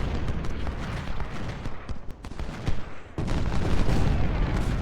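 Long-range Civil War cannon counter-battery fire in the strategy game Ultimate General: Civil War, a dense rumble of overlapping booms and crackling shots that swells louder near the end, with no voices.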